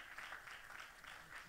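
A church congregation applauds in a steady, dense wash of clapping, distant and fairly faint, for a brief moment.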